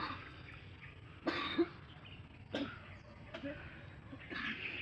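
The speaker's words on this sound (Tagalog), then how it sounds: "inuubo ka naman." Several short, rough coughs spaced a few seconds apart, close by, over a steady outdoor background hum in the mountains.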